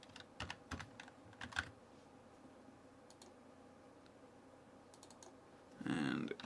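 Computer keyboard keys being typed in short scattered bursts, quiet and close, with a louder rustling clatter near the end.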